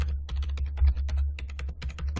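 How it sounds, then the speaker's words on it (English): Rapid keystrokes on a computer keyboard as a password is entered to connect over remote desktop: a quick, steady run of close clicks over a low hum, with no talking. "I'm just going to type in that password"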